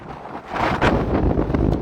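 Outdoor wind gusts buffet the microphone in rising, uneven rushes, loud and close, with no speech heard.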